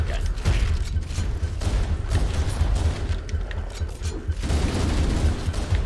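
Shotgun fire in Halo CE during Legendary co-op on The Library, booming blasts mixed with other gunfire and heavy combat noise, loud and continuous over about six seconds.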